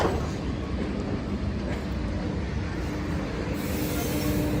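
Electric commuter train at a station, heard as a steady broadband rumble of rolling rail cars with faint wheel clatter, continuous and fairly close, with no voices.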